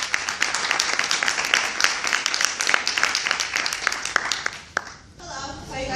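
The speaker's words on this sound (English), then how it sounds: "So please, everyone give us a round of applause for Rebecca." Audience applause for a student presenter at a criminology class event, a dense spread of claps filling about five seconds before fading into quieter room sound.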